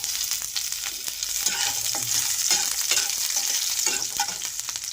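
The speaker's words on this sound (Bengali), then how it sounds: "দেখুন জিরেগুলো ভাজা ভাজা হয়ে গেছে" Steady, bright crackling sizzle of cumin seeds and slit green chillies frying in hot oil, continuous throughout with faint stirring clicks underneath.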